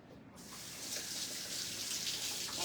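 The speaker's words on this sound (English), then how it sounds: "Let me rinse my hands off here." Hands rinse under a running kitchen tap, a soft steady hiss of water that starts abruptly and continues evenly, fairly quiet and with no talk.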